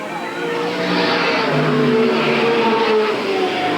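Race cars roar around the Eugene Speedway oval in 1987, a steady, loud engine drone swelling as cars pass, with an announcer's voice running over the noise.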